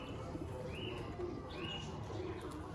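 A pigeon held in the hand gives soft, low cooing over steady background noise, with faint chirps from other birds nearby; the coos come as brief murmuring phrases across a few seconds.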